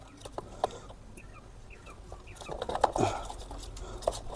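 A 24-day-old European quail chirps a few times while being weighed. The short, soft calls are close by over faint background noise, getting a little busier toward the end.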